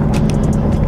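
A Victory High-Ball motorcycle engine rumbles loud and close in a brief, steady low drone as it downshifts, with faint higher clicks above.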